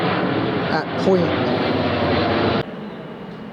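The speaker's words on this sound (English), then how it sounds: "Excuse the jet noise, wasn't expecting that down here." Jet aircraft passing overhead on its climb out of London City Airport, heard on a woodland walk near Petts Wood as a loud, steady broadband roar that cuts off abruptly, with a voice talking over it.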